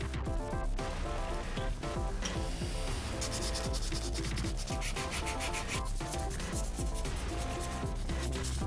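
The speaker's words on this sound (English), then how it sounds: "I'm going to wet sand at the end." Sandpaper rubs steadily and closely over epoxy-coated knife handles during wet sanding, a continuous rasping scrub in quick back-and-forth strokes with no speech.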